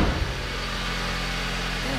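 A 2.4-liter four-cylinder engine in a Jeep Patriot idles under the hood in a steady, smooth, low hum, heard up close and unbroken.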